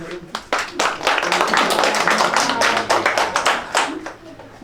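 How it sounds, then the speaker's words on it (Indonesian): Hand clapping in a marawis percussion lesson, a run of sharp, close claps, sparse at first, then quickening into a fast, even burst before tapering off, with a voice murmuring briefly. "Tepuk tangan."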